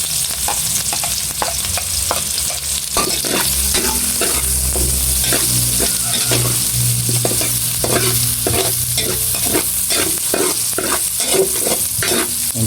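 Onion frying in a pan as the first step of chicken menudo: a loud, continuous close-up sizzle with frequent rhythmic scrapes of stirring throughout, no voices.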